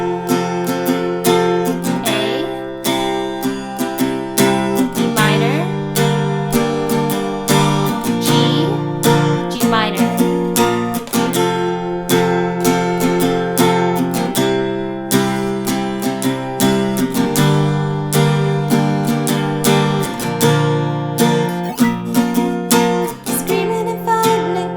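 Acoustic guitar strumming the chorus of a song in an easy chord arrangement, a steady full-volume rhythmic strum through changing chords, played alone without talk.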